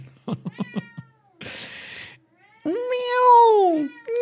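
A cat meows in a horror video game, a few short chirpy sounds followed by a burst of noisy hiss and then a long, wavering meow close to the microphone.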